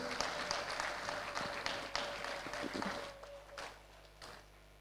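Audience applause at a women's summit as a speaker walks to the stage, full and lively for about three seconds, then thinning to a few scattered claps over a low hum.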